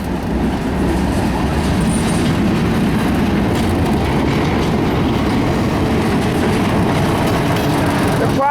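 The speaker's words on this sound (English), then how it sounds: "United States Air Force explosive container train." A CSX eastbound mixed freight train carrying United States Air Force explosive containers rolls past close by, a loud, continuous rumble of wheels and cars with faint rhythmic clacking throughout and no speech.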